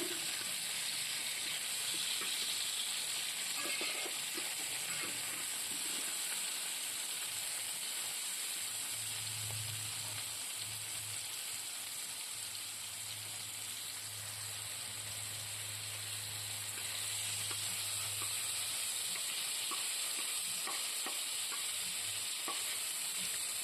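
Vegetables with green chillies frying in a pan, a soft, continuous low sizzle with faint stirring, steady and fairly quiet for the whole stretch.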